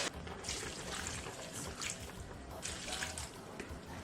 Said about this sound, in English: we will also be adding a little bit of water because it's too thick.